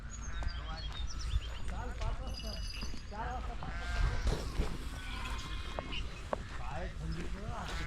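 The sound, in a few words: goats bleating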